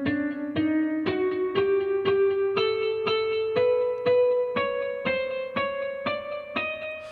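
Synth notes from a MIDI piano roll, E3 up to B3, run through an Ableton Live Scale effect: a steady series of about fourteen evenly spaced plucked tones climbing gradually in pitch, clear and alone.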